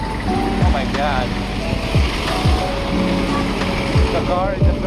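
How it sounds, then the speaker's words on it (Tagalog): Cars and a truck creep bumper to bumper in congested traffic, giving a steady close engine rumble and road noise under the whole stretch, while a person talks over it. "The car and the truck very close to each other"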